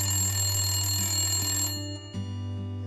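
A telephone rings in the life-simulation game The Sims 3, an electronic trill over a steady low hum that cuts off partway, then resumes faintly.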